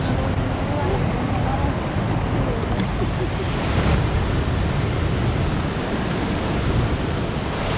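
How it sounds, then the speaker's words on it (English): A powerful waterfall in northern Bali roars as a steady, loud, broadband rush of falling water, continuous and close throughout with no pauses. "It's one of the most impressive waterfalls I think I've ever seen."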